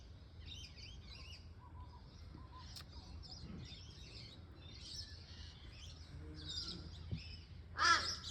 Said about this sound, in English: Morning, Crow.